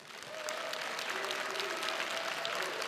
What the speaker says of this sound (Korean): 김도겸 울산시장에게 다시 한번 큰 박수 부탁드리겠습니다